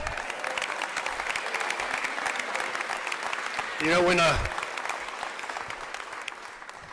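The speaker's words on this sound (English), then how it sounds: "You got to applaud for that, man." Audience applause at a political rally for a Nevada governor's re-election announcement, steady clapping throughout with a brief louder swell midway and a speaking voice over it.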